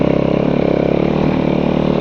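Snowmobile engine droning steadily and close while riding through deeper snow in rough backcountry terrain, with a brief thump around the middle as the sled passes over a rock, no talking.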